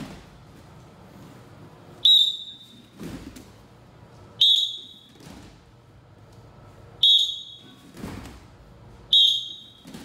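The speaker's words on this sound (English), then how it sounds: "We're gonna do two whistles." A coach's whistle sounds for a wrestling sprawl drill, giving four sharp blasts about two to three seconds apart, each followed by thuds of bodies hitting the mat.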